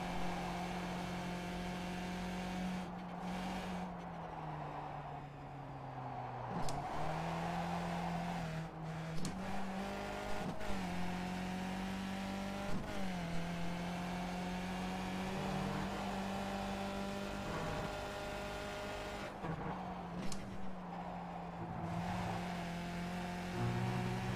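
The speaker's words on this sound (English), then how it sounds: "if I'm not careful, I'm going to blow up my engine there" A Skip Barber race car in the iRacing game at Road Atlanta drones steadily at high revs, dipping and climbing through gear changes and braking, a continuous engine note with no voices.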